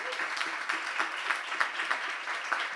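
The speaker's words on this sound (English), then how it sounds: "How about one more round of applause for Mariah" An audience claps at a community program event, a dense, steady patter of many hands with occasional louder individual claps, sustained throughout without voices.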